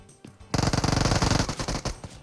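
Rapid automatic gunfire in a video game, a dense burst of close, loud shots in fast rhythm lasting over a second after a couple of lighter clicks, no voices.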